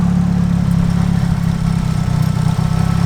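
Engine of a Nissan 180SX car idling on E85 fuel, with a steady low rumble that holds loud and close throughout with no talk.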